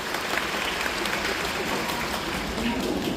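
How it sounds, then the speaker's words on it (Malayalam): Audience applause at a gathering with comedy TV artists, steady crowd clapping heard fairly close, with some voices mixed faintly underneath. "എന്നെ ഇഷ്ടമുള്ള എല്ലാവരും ഒന്ന് കൈയടിച്ച്."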